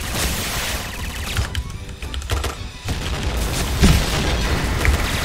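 A grenade blast in the video game Point Blank, a heavy booming explosion amid continuous loud gunfire and battle noise, with no quiet moments.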